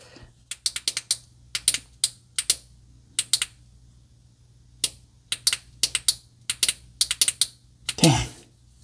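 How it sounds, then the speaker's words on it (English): Sharp, close clicks of a ThruNite TN12 Pro flashlight tail button come in quick irregular bursts of two to four, with a brief rustle of handling at the end. "So you hit the back tail button for turbo"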